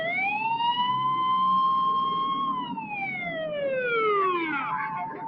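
An ambulance siren in a Los Angeles street scene wails loudly and close, holding a long steady tone and then gliding downward, with no talk over it.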